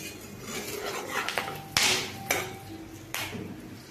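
Cardamom, cinnamon and cloves are stirred in a pan with a metal utensil, giving a few sharp clinks and scrapes against the pan at irregular intervals, close by and without talk.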